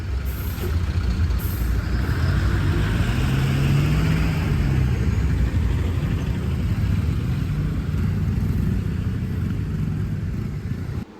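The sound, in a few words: two-wheeler being started and test ridden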